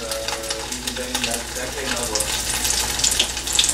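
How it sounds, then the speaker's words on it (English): Breaded chicken kola balls frying in hot oil, a close, continuous crackling sizzle that grows slightly busier over a few seconds, with faint talk underneath. "Okay, I'm going to fry this one."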